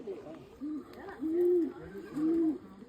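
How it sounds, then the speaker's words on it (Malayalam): Pigeon cooing in Nelliyampathy, three soft rising-and-falling coos, fairly close, with faint background voices. "പ്രാവ്."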